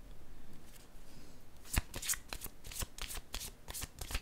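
Tarot cards are shuffled and handled up close, with crisp riffling flutters and light slaps that come in bursts during the second half, following quieter rustling.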